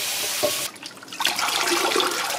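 Seaweed is rinsed in a mesh strainer under running water, a close, steady rush of tap water with a brief dip partway through as the seaweed is rubbed and splashed.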